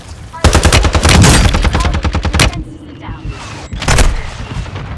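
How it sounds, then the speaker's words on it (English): Rapid bursts of automatic gunfire and heavy booms from a mortar strike in Call of Duty Warzone, loud and close, with a pause of fainter shots before another short burst. "Mortar strike inbound."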